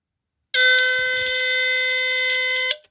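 A Dicon 200 smoke detector, a rare version, gives one continuous shrill electronic alarm tone for about two seconds, loud and steady, then cuts off sharply.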